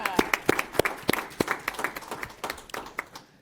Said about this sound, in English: give them a round of applause if I can